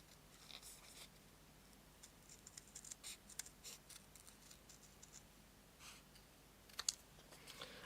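Paper butterflies, antennae included, being cut out with scissors at a craft table: quiet, sparse snips and paper rustles come in short irregular bursts, with a couple of sharper clicks near the end, all faint and with no talk.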